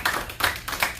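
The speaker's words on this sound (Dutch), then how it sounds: "Dames en heren, mag wel applaus." Brief applause from an audience at a public event in Losser, Netherlands, heard as a few rhythmic bursts of clapping over about a second.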